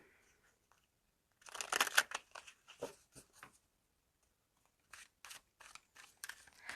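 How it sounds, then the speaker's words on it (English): Tarot cards being shuffled during a pick-a-card reading, a quiet rapid riffling and flicking in two bursts separated by a brief pause, close and alone. "Okay, I'm going to shuffle."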